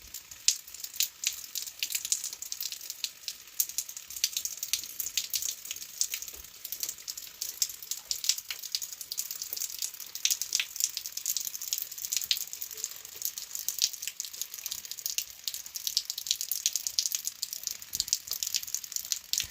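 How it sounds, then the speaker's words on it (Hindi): Steady rain hisses and patters without a break through a foggy day of day-long downpour, a dense, even wash of drops with no voices. "और लगातार बारिश होती जा रही है"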